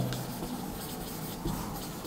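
Marker or chalk writing out a chemistry question on a classroom board, a steady soft scratchy rub with small strokes, close and fairly quiet, no voice.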